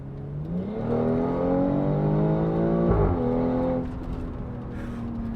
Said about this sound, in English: this thing with the downpipe and tune and everything else stock just sounds absolutely amazing